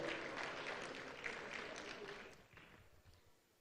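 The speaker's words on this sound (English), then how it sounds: "A round of applause" An audience at an awards ceremony applauds steadily as an honoree walks to the podium, with moderate, dense clapping from a distance that slowly thins and fades toward the end.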